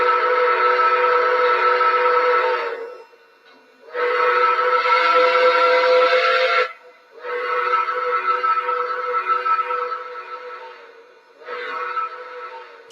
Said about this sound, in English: Trying to get the other whistle